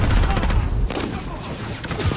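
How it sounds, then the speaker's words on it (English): Explosions and gunfire from a fast online shooter match on a small shipping-yard map, with an RPG-7 rocket blast among dense, loud bursts and rattling fire, and a voice briefly shouting over it. "Kaboom! RPG-7! Look out!"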